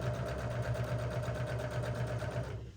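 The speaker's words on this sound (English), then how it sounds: "so I back tacked at the beginning" A sewing machine stitches a tote bag seam with a fast, steady mechanical whir and rhythmic needle chatter, close and continuous, fading out at the end.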